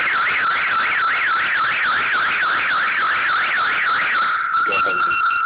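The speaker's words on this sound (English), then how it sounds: "You'll notice the alarm will trigger." A car alarm wails loud and close, its pitch sweeping up and down in a steady cycle, then switching to a flat, steady tone near the end.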